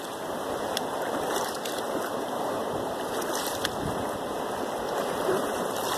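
River water rushing and churning steadily during gold panning, a continuous broadband wash heard close, with no talk.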